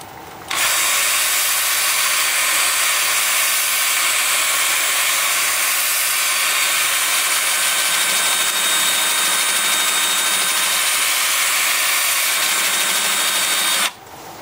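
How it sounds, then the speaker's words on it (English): A 2-inch sanding disc at 80 grit runs against a wood-turned piece spinning on a lathe at about 380 RPM, a loud, steady high-pitched whir that starts abruptly and runs unbroken for about 13 seconds before stopping. "I'm gonna start the sanding with my 2-inch sanding disc at 80 grit."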